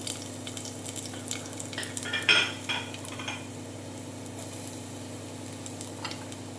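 Chopped ginger and green chili fry in hot ghee for ven pongal, a soft steady sizzle with a short burst of stirring and utensil scraping in the middle.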